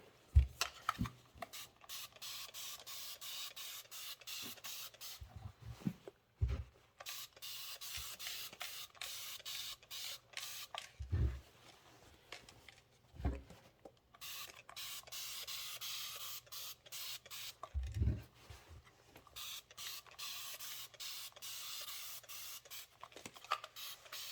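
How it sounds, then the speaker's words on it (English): A stiff hand-pump spray bottle mists Best Press starch onto quilting fabric pieces, giving repeated short hissing bursts in irregular runs, close and fairly loud, with no talking. "I'm just going to spray them out again"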